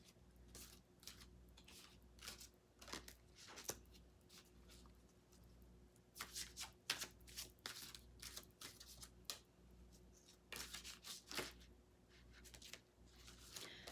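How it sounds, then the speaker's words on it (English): Cards from a moon intention deck are shuffled by hand indoors, giving soft, quick, irregular riffling and flicking bursts that are faint and close, with no talking. "So we'll just give it a little shuffle."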